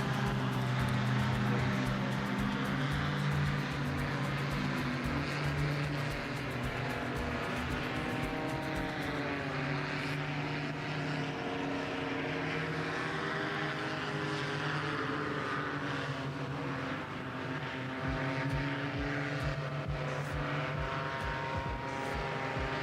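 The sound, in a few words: paramotor engine and propeller flying slalom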